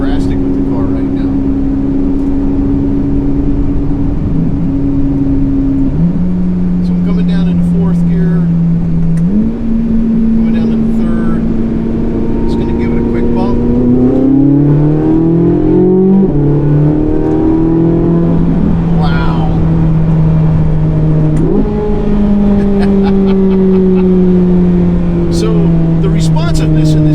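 A Chevrolet Corvette Z06 engine drones loudly from inside the car while cruising at modest speed, its pitch rising and dropping through gear changes, with someone talking over it.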